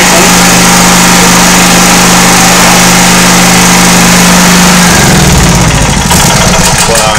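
A petrol engine started on choke with a key runs loud and steady with a droning hum, then its tone shifts and roughens partway through as the revs change. The engine is close and continuous.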